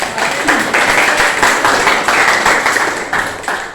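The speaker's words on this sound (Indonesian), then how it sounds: "Beri tepuk tangan yang beri tepuk tangan dulu." A classroom of students claps for classmates after a presentation, a loud, close, continuous patter of many hands with slight pulsing swells.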